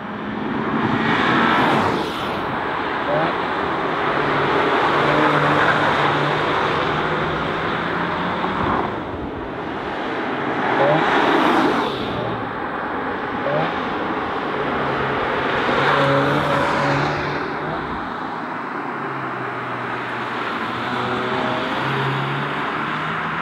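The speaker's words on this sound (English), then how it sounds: "we'll start on the racetrack with the new all-wheel drive in the Estate DSG combination" Seat Leon Cupra ST estate, 300 hp, all-wheel drive with DSG gearbox, lapping a racetrack: engine roar rising and falling in repeated surges as the car accelerates, shifts and passes, loud and continuous without speech.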